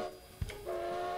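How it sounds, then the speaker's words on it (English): Whistle of the steam locomotive Rogers Sierra Railroad No.3 in Train Simulator, a short thump followed by a sustained, loud multi-tone whistle that sounds on steadily. "I do like the sound of the whistle."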